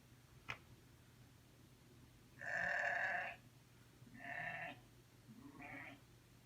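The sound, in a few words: sheep bleating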